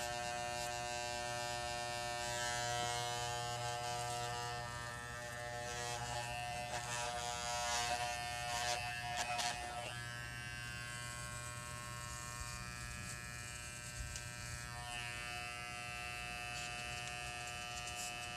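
An electric shaver buzzes steadily while shaving off a full beard, a close, continuous humming drone with small rasping changes as it cuts through hair, no talk.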